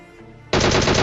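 Rapid automatic gunfire from a battle royale video game breaks out after a quiet moment, a loud, dense burst of shots continuing steadily to the end, with no talking.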